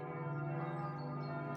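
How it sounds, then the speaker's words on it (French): A church bell ringing next door, a sustained resonant tone with rich overtones that holds steadily and close throughout, with no speech. "L'église, c'est à côté de moi. C'est pour ça qu'ils sont en train de sonner la cloche."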